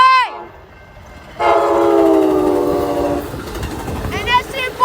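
Passenger train horn at a railside spot in Dixon, a short blast then a long sustained chord, loud and near, followed by another blast starting as people chat nearby.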